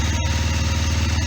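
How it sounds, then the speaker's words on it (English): A motorcycle engine on choke runs with a steady, throbbing idle, revs rising slightly, close and continuous without any voices. "you can hear the revs picking up with the choke"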